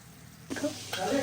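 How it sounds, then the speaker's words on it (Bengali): Chopped onions hiss and crackle in hot oil in a pan as a tempering for haleem, the sizzle rising abruptly after a quiet start and swelling again, close and moderately loud. "পেঁয়াজটাকে একটু ভাজা ভাজা করতেছি।"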